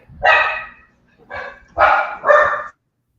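A dog barking close and loud, four distinct barks in a short uneven burst with brief pauses between them and quiet in between.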